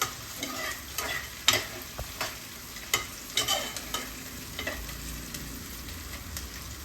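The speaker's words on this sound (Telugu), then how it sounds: "వేసేసుకుని బాగా ఆయిల్లో ఫ్రై చేసేసుకుందామండి" Spices and green chillies sizzle steadily in oil in a pan while a utensil stirs with irregular clinks and scrapes, close by and without talk.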